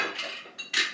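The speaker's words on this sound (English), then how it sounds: "Scrape the bottom, get the little bit of herbs that are left in there that you cooked with." A spoon scrapes and clinks against the bottom of a pot of steak soup, gathering the cooked herbs, in two or three short metallic scrapes close by.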